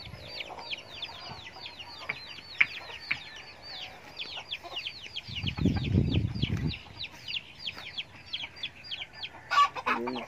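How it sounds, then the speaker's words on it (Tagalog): Chickens cluck and squawk in a busy flock, with a burst of louder low commotion midway and some faint background voices. "Yan, ang mga manok."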